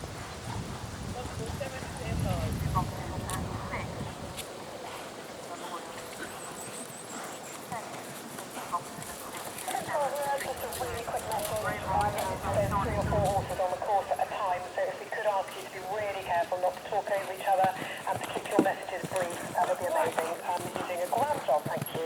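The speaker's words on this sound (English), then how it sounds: "there's a horse about to come" Horse hooves clip-clop in a steady rhythm at an outdoor horse trials show jumping event, moderately close, while people talk nearby and a dog barks now and then.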